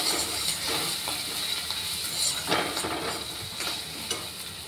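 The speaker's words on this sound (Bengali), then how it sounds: "এবার এটাকে ভালো করে একটু ভাজা ভাজা করে নেব, যাতে পুড়ে না যায় মশলাটা।" A spice paste with turmeric and oil sizzles steadily in a pan while a utensil stirs it, giving repeated scraping strokes over a constant close frying hiss.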